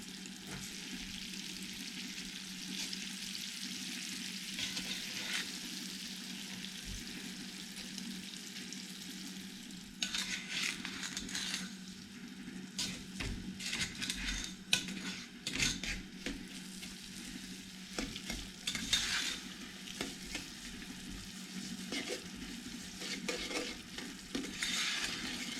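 Brownie mixture melting in a pan over medium heat while a utensil stirs it continuously, a soft sizzle under steady scraping strokes that grow busier halfway through, close and fairly quiet.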